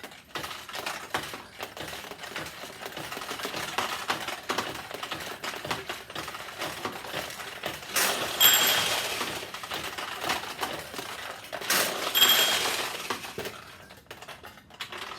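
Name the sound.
1976 Nishijin Model B vintage pachinko machine running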